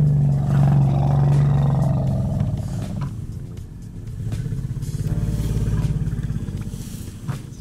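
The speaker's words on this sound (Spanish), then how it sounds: "Este es el sonido del elefante Charlotte, dándole la bienvenida al pequeño" An elephant greeting a young calf and other members of its herd gives a loud, deep rumbling roar that swells at the start and carries on steadily for several seconds, with no voices.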